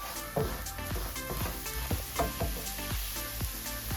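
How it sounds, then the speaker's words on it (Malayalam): Sugar is stirred into a warm banana ladoo mixture in a pan, a soft sizzle under regular scraping strokes of a spoon about twice a second, close and wordless. "അപ്പോൾ നമുക്കൊരു കുറച്ച് ഈ ഷുഗറും കൂടെ ആഡ് ചെയ്ത് നന്നായിട്ടൊന്ന് മിക്സ് ചെയ്ത് കൊടുക്കാം."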